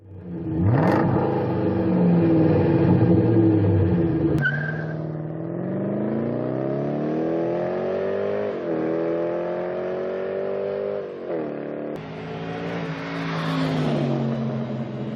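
A Lincoln LS with a Jaguar 3.9 liter V8 revs hard close by, its engine note climbing and settling in several sweeping pitch changes over about fifteen seconds, loud and continuous with no voices.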